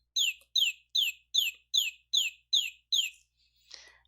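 A squeezed rubber toy chicken gives eight quick, evenly spaced high squeaks in a row, close and clear, followed by a faint rustle.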